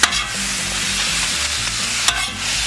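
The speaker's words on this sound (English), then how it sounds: "Just want to give it a little toss, little flip. Get that cheese nice and melted in there." Teriyaki cheesesteak meat and melting cheese tossed and flipped on a hot griddle, a loud continuous sizzle with scraping stirs and a sharp clatter near the end, no voices.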